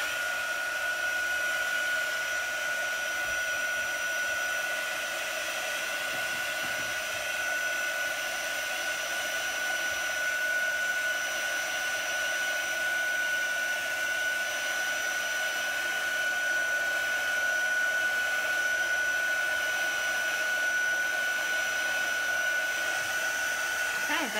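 A hair dryer runs steadily at close range, drying freshly applied chalk paste on a wooden craft piece; a constant loud whirring blow with no breaks.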